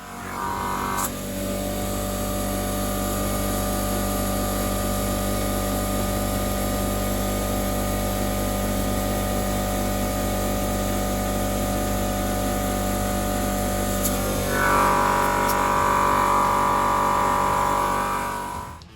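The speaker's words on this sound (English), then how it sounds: "you turn it on, push the end of the hose on the tire" An electric air compressor runs with a steady, loud, droning motor hum as it inflates a car tire, holding constant for most of the stretch before a brief rise in pitch near the end.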